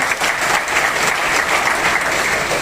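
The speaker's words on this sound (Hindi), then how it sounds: "तो तालियां होनी चाहिए।" Loud, steady applause from an audience at a motivational speech fills the whole short moment, close and unbroken.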